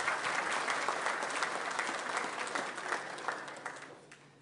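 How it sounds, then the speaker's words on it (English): Audience applause at a business appreciation luncheon, a steady wash of many hands clapping that tapers off and fades toward the end. "Let's give them a round of applause as well."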